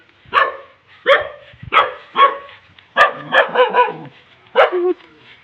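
A dog barks in a rapid, close run of about nine sharp barks, loosely grouped in bursts with short pauses between them; no voices are heard.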